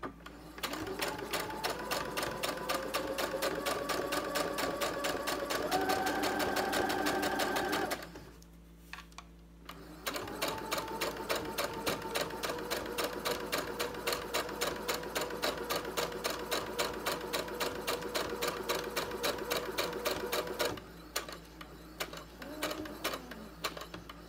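A sewing machine stitches fabric for a reusable face mask, its needle chattering in a fast, even rhythm close up, pausing briefly twice before running steadily again.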